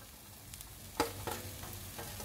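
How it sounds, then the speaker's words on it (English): Beetroot and mixed vegetables sautéing for pulao, giving a continuous quiet sizzle broken by a few spatula stirs, one sharper scrape near the middle, heard close with no speech. "Now let's saute this also. Lastly, we'll be adding our beetroot,"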